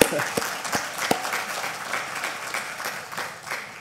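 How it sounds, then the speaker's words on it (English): Audience applause, a dense patter of many hands clapping at steady strength throughout, with a few sharper claps standing out near the start. "We just give them a round of applause"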